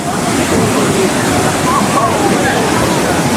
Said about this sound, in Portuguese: E aí a cachoeira está ali.